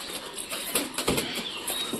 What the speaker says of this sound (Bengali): ডানা ঝাপটাচ্ছে।